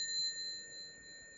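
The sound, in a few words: miniature bell being rung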